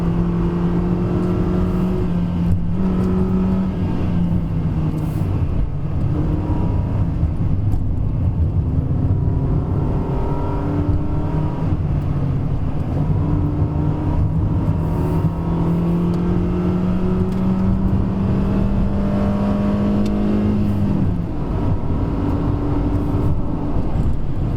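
A 2020 Perodua Bezza's engine revs hard at full power, its note climbing steadily through the gears with rising harmonic sweeps and shift dips, steady and loud with road noise beneath, no talking.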